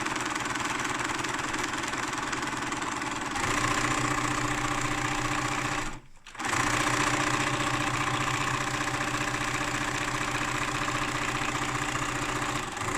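A home sewing machine stitching a seam along the edge of a fabric bookmark, running as a steady close motor whir for most of the span, with a short pause around the middle before stitching resumes.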